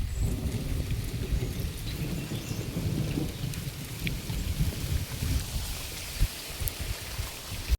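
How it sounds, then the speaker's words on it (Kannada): Heavy rain pours steadily on a village farm while thunder rumbles low and continuously through the storm, with a couple of sharper cracks near the end and no voices. "ಸಿಡ್ಲು ಗುಡುಗು ಜೋರೈತಿ ಇವತ್ತು."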